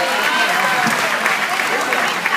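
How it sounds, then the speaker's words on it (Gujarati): An audience at an entertainment event organised by a women's federation claps steadily and loudly, a dense wash of applause that carries on without a break from start to finish. "અમને આટલા બધા કલાકારોને એક સાથે મંચ પર જોઈને થોડી તાળીઓનો ગડગડાટ થાય તો મજા આવી જાય"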